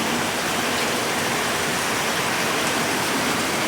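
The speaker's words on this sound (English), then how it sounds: "It's supposed to rain like this all day today." Heavy rain flooding the sand streets of Abidjan, Côte d'Ivoire, a dense, loud, unbroken roar of downpour filling the whole clip with no voices.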